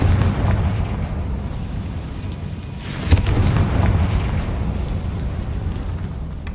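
Confringo fire spell blasting in Hogwarts Legacy on PC, a dense rumbling explosion with a sharp burst in the middle, followed by a sustained roaring wash that stays loud throughout.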